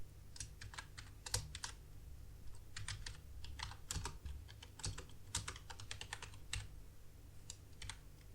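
Quiet, rapid typing on a computer keyboard, with irregular bursts of light key clicks over a low background hum, no voices.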